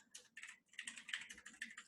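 Computer keyboard typing comes through close and quiet as rapid clusters of keystrokes with brief pauses between them, with no speech.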